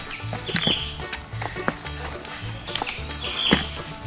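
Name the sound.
birds singing on a mountain trail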